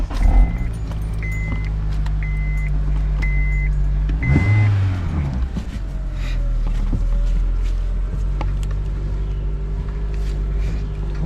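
A 2003-2009 Honda Accord with the 2.4L engine starts up and settles into a steady, close idle, with a few short electronic chime beeps early on and a brief change in the engine note midway.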